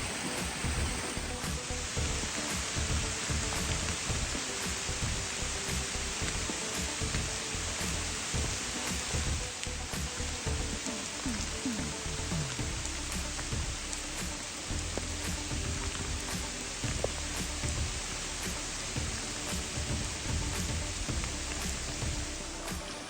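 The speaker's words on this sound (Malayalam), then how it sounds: "നല്ല മഴയാണ് കേട്ടോ" Heavy rain pours steadily for the whole stretch, a dense, even hiss of drops striking surfaces with no voices.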